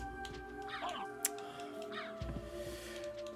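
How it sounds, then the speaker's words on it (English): Crows caw in two harsh bursts in the Castlevania game Symphony of the Night, standing out clearly over a steady hum of game music and ambience, with a brief sharp click in between. "I love crows in this game, man."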